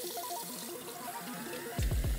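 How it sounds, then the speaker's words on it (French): Hot water running from a mixer tap inside a converted VW T5 van, a steady close splashing flow with a louder burst and low gurgling near the end. "j'ai bien de l'eau chaude qui coule"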